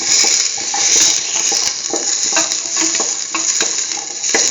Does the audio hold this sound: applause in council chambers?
no